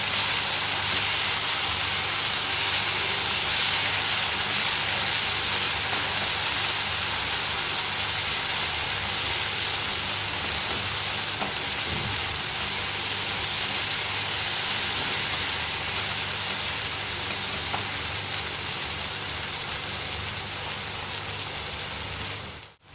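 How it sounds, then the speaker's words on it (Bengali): Ginger garlic paste fries in oil for mutton curry, giving a continuous loud hiss and sizzle that stays steady and close the whole time, easing slightly toward the end, no talk. "এটা আমি ভালোভাবে ভেজে নেব। আদা রসুনের যে একটা থাকে গন্ধ কাঁচা, সেটা যেন চলে যায়।"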